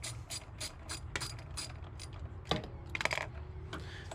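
A ratchet loosens the battery terminal on a 2000 Mustang GT, giving a run of quick, close mechanical clicks with sharper bursts near the middle and end, no talking.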